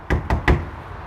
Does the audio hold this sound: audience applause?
no